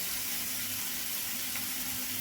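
Vegetables frying in a pan for a homemade pasta dish give a steady, even sizzle, close and fairly quiet, with no talk.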